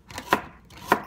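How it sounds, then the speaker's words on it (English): A knife cuts carrots into rounds on a board, two crisp chops about half a second apart, close and clear with no talking. "So the carrots we're gonna cut into just rounds."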